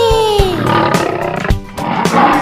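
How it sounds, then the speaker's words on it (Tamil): Lion roars in a Tamil children's rhyme, a growling rumble set against bouncy musical backing with a beat, loud and up front. "குமுறும் சிங்கம் காட்டிலே,"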